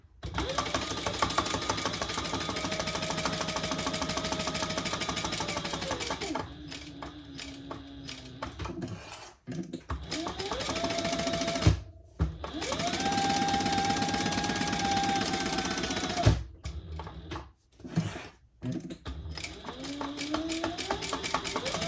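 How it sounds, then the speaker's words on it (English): A domestic sewing machine stitches around three sides of fabric for a pattern project, running in long steady bursts with a rising and falling motor whine, stopping briefly between seams before starting again. "Then we're going to stitch around these 3 sides."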